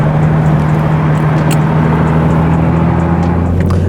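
A Nissan GT-R R35 with a full bolt-on catless exhaust rumbles loudly and close, a steady heavy droning growl with a strong low hum, holding constant with no voices.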